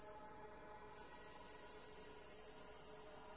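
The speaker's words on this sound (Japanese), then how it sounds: "けたたましく泣くセミの声も、" Cicadas shrill loudly in the Japanese horror game Deitsa no Makugire: Chouka no Torikago, forming a steady, dense high-pitched drone that briefly dips and then swells back to full strength for the rest of the clip.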